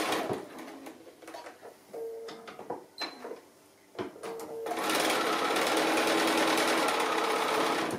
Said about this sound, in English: And so we're just going to stitch this slightly less than 1/4 of an inch